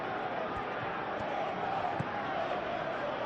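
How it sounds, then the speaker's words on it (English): Steady crowd murmur and chanting from a simulated Premier League match between Chelsea and Manchester United, a continuous wash of stadium noise with a few faint thuds, no clear speech. "The crowd are calling for this to be put to bed."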